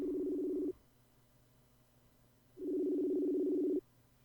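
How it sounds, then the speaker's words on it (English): A quiet ringback tone plays on an outgoing telephone call, two buzzing rings each about a second long separated by a pause, heard alone with faint line noise. "One ringing. Well, at least it's not going over to voicemail."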